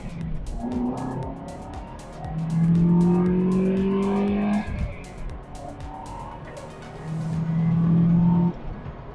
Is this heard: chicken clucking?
no